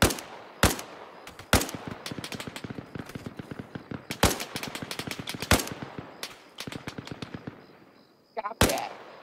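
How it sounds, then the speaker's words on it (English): A .50 cal machine gun turret in the Arma Reforger military game fires rapid, steady bursts, close and loud, with heavier booming shots spaced among the rattle. "The 50 cal sounds so good."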